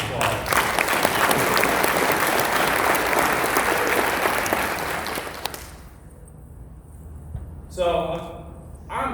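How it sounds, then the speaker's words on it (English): Audience applause after an introduction at a Soft Wash Systems company gathering, a dense loud wash of clapping for about five seconds that cuts off and fades, followed by a brief burst of speech. "Everybody give him a round of applause."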